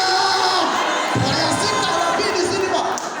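A church congregation cheers and claps at an evangelistic service, a loud, dense roar of voices and whoops that swells after a moment and holds steady, close and enveloping.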